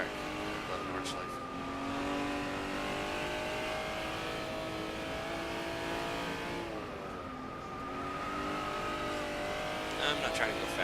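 Steady engine drone of an NSX-R lapping the Nordschleife in a racing game, revs rising and falling through gear changes, with a voice talking over it.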